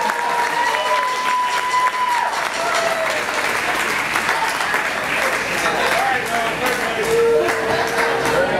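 A crowd claps loudly and continuously at a music school's student lesson performance recital, with voices and chatter mixed into the steady applause throughout.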